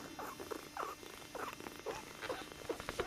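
Three small kittens, two females and a male, purring and making soft squeaky chirps up close, a quiet, uneven run of little bursts with no talking.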